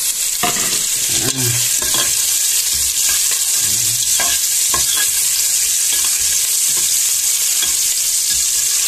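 Sliced onions sizzle steadily in hot oil for chicken adobo, a loud continuous frying hiss broken by scraping stirs and utensil knocks, with no voices.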